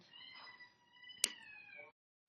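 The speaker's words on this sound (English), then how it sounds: "It's my cat." A house cat meows indoors, one drawn-out, wavering cry with a sharp click partway through, fairly close and clear, ending abruptly into silence.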